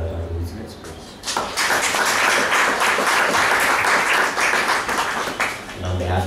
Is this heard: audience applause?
yes